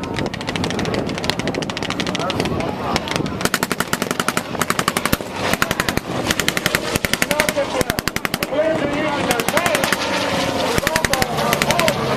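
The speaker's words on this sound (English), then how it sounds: "The Americans would also use a 1928 Thompson, which was 950 rounds per minute." A 1928 Thompson submachine gun fires at a WWII Pacific battle re-enactment at Thunder over Michigan: loud, rapid bursts of automatic fire, one after another and spread across the scene, with voices and an engine drone underneath.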